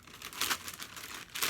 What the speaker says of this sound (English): Each shoe came in its own plastic bag.